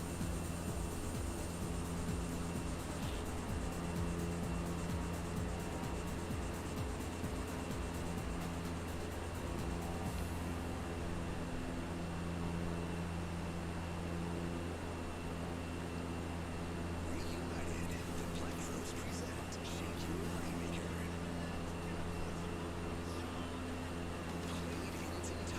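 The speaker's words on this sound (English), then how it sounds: "So how you liking the DC-3, Kevin?" Engine drone of a DC-3 airliner in a flight simulator game: a steady, low, humming piston-engine tone with a continuous even throb, faint and unchanging throughout, with no one talking.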